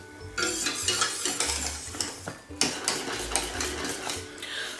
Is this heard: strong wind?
no